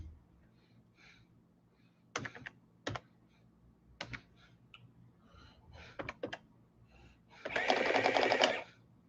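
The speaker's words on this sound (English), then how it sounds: "Get my adding machine here." Keys on an adding machine are punched in scattered sharp clicks and short clusters, ending in a longer whirring burst as the mechanism runs, all close and fairly quiet in a still room.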